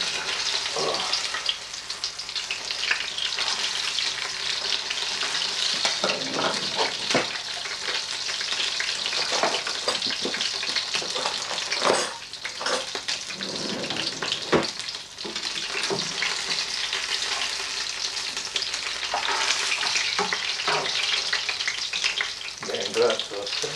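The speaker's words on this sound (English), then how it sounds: "I'll put fish in batter. Now I'm frying it," Battered fish frying in hot oil, a steady dense sizzle with crackling bursts that runs continuously at close range, with no talk over it.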